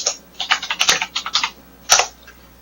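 Quick bursts of typing on a computer keyboard during a seminar session: close, crisp keystrokes in an uneven run, a short pause, then a second brief flurry.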